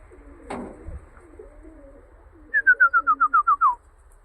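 Racing pigeons just back from a flight give soft low coos early on, then a close, clear run of about nine rhythmic descending whistled notes before the clip ends.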